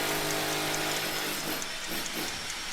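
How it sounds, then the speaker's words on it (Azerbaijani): An electric screwdriver whirs steadily while driving screws, its loud motor hum filling the short clip and turning rougher and more uneven near the end as the screw seats, with no talking. "Elektron bir şeydir. Şurupları adətən yerinə yerləşdirir."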